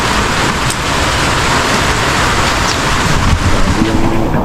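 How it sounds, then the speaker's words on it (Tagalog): Heavy Christmas-day rain pours down on a flooded street, a dense, loud, steady hiss that carries on without break, with no voices. "Ulan"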